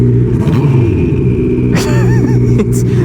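A 300 hp turbocharged Suzuki Hayabusa motorcycle rumbles loudly and steadily under heavy power, with a whistling turbo spool and a brief fluttering wastegate chirp as the throttle comes off, close by.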